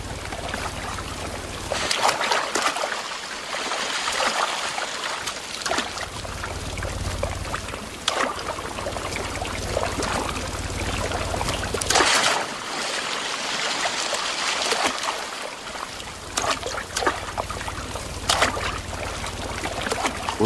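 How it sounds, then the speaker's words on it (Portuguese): A small stream flows through Atlantic Forest in Brazil, a continuous close trickling and splashing water sound with a slight surging rhythm, rising and easing every few seconds, no speech. "Mas na Mata Atlântica, sempre tem um riacho por perto."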